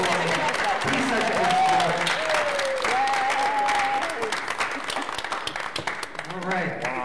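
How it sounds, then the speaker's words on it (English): A church congregation applauds warmly at a service, with dense clapping and some cheers. Voices talk over it, and the applause thins out toward the end. "Please give Michael a huge round of applause"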